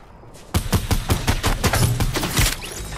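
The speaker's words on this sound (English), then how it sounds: "I got sniped from the guy on top of the tower" Rapid repeated gunshots ring out in a Fortnite match, about a dozen sharp cracks in quick succession after a brief quiet start, loud and close with a faint echoing tail.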